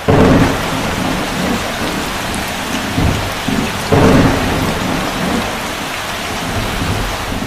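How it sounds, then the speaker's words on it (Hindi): Steady rain pours at a cliff-top beach in Varkala, Kerala, with loud thunder cracks and rumbles breaking in near the start and again around the midpoint, dense and close throughout with no voices. "लेकिन थोड़ी देर में बारिश होने लग गई"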